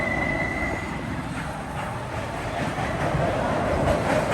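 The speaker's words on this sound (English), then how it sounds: "Closer shot of the train and the bridge." A train rolls across a river bridge near a beach in Yuma with a steady, continuous rumble and a faint, sustained squeal of wheels, heard from a moderate distance without voices.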